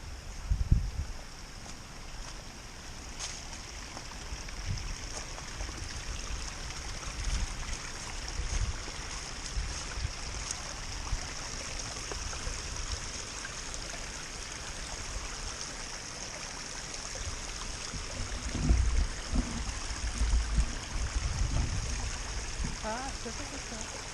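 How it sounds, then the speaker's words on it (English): A small stream on the Appalachian Trail flows in a steady trickling wash, heard close and continuous, with footsteps and brief bumps at times. "A little stream. Comes a waterfall that way."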